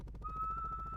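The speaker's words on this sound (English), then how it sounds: "Okay, does anyone see where the whistle came from?" A single steady whistle tone from the video game Dinkum, clear and sustained for about a second, heard alone.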